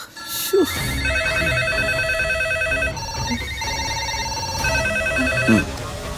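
Telephone ringing with repeated electronic bell tones in bursts, loud and close, with brief voices and movement around it.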